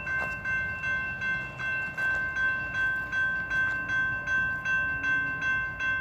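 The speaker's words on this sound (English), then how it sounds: "it's an intermodal CSX on track 2 on Love Street right now in Folkston," CSX intermodal freight train rolling along track 2 on Love Street in Folkston, Georgia, its cars clattering in a steady rhythmic pulse under a sustained high tonal ring, loud and close, with no voices.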